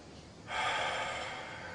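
A single deep breath demonstrated during a meditation talk on abdominal breathing, a soft hiss that rises suddenly and trails off gently, close and quiet, with no speech.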